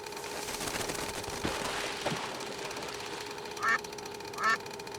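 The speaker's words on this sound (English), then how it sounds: "Ducks. How nice." Ducks quacking in the point-and-click adventure game Secret Files 2, set at a zoo: two short, clear bursts of quacks near the end, over a steady ambient hum.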